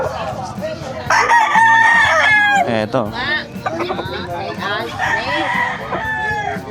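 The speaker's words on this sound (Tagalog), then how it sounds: "So dito makikita nyo yung mga chicken." Several gamecocks crow loudly and repeatedly close by at a pet market in Sta. Maria, Bulacan, overlapping one another, with a person speaking briefly amid the birds.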